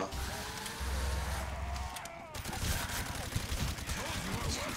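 Rapid gunfire at zombies in Call of Duty: World at War, a custom one-room zombie map, bursting in quick volleys of shots at moderate level with game noise between.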